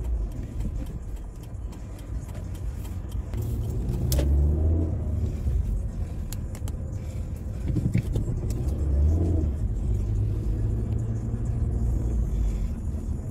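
Car driving at low speed through the streets of an old Dutch town, a steady low engine rumble and road noise with mild surges as it accelerates, close and continuous with no talk.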